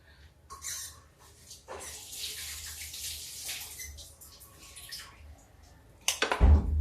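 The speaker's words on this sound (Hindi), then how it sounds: "ये देखिए अब हम हाथ धुल लेते हैं।" Water splashes from a kitchen tap as hands are washed, in uneven gushing bursts with brief pauses, close by, ending in a louder splash.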